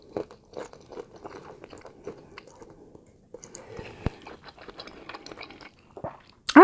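Close, crisp crunching and wet chewing of a big bowl of Ichiban ramen noodles, with soft slurps and mouth sounds in steady irregular bites, quiet between, ending in a louder burst.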